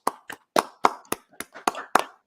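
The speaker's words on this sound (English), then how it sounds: "Round of applause." A round of applause made of slow, evenly spaced handclaps, about eight crisp claps in a steady rhythm, close and dry, with no voices.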